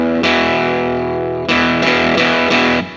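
Thick, heavily distorted electric guitar through a Crazy Tube Circuits High Power pedal, played on the low three strings in a rhythm part: one long sustained chord, then a run of loud, downpicked chord stabs.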